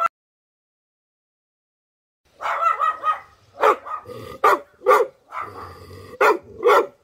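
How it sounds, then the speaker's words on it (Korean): A retriever barks indoors after being brought in from play, a burst of loud, close woofs and yips in quick irregular succession following a brief silence. "짖지 마. 그만, 그만. 짖지 마."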